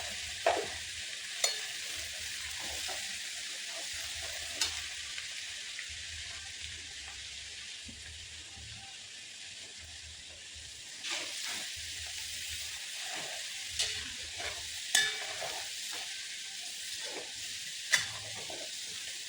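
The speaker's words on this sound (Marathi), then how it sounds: "त्या लसणाच्या पेस्टला मस्त लालसर होऊ द्यायचं आहे" Thick garlic paste frying in oil for a crisp monsoon chiwda, giving a soft continuous sizzle and hiss with scattered scrapes and clicks from stirring, close and fairly quiet throughout with no talking.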